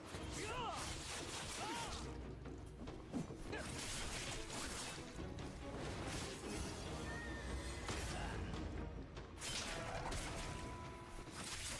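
A horse neighs and whinnies during combat in the video game Where Winds Meet, with several short whinnies mixed into a dense battle soundscape of clashes, whooshes and impacts.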